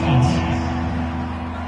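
Stadium crowd noise from a football video game: a steady, dense roar of many voices with a brief whoop rising near the start, loud and continuous throughout.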